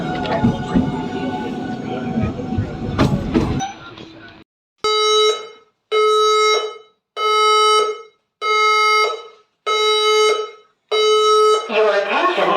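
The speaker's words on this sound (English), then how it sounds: "A fire alarm has activated in this area." After a stretch of noisy background, a fire alarm sounds in a series of six loud, evenly spaced electronic tone bursts, each lasting about a second, separated by short silences.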